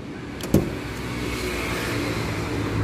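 A power window on a 2015 Datsun Go Plus starts with a sharp click, then its electric motor hums steadily and strains slightly louder toward the end, heard up close inside the car with no talk.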